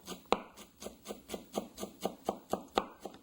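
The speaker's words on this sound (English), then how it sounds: "And taking the knife, just go and make really fine little cuts" A knife makes fine, rapid cuts through a tightly rolled cigar of basil on a cutting board. About eleven crisp, evenly spaced chops come close up and alone, with no talk.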